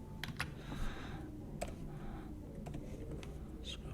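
Rapid, light keystrokes on a computer keyboard, a few quick clusters of clicks, quiet and close over a low background hum, with no talking.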